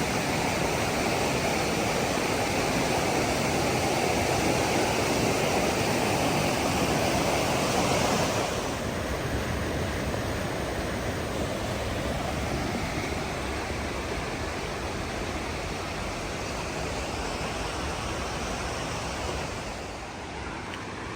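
Creek water rushing just upstream of Mouse Creek Falls in Big Creek, North Carolina, a steady broad roar that holds near and constant, easing slightly softer partway through.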